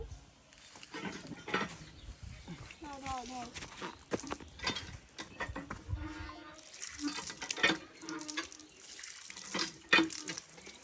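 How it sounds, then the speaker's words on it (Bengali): Tap water runs and splashes as a face is washed over a sink, with uneven bursts of water and people talking at the same time. "এবার মুখটা ধুয়ে নাও"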